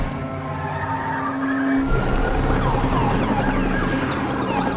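Ambulance speeding away in a film chase scene: a loud vehicle roar builds and carries on with road and engine noise, with a faint siren-like tone partway through.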